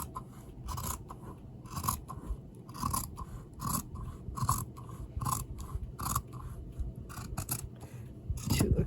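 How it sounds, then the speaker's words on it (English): Scissors cut through bag fabric in a close, rhythmic series of crisp snips, roughly one or two per second, each a short rasping crunch over quiet background. "Now I'm going to cut about 1/4 of an inch"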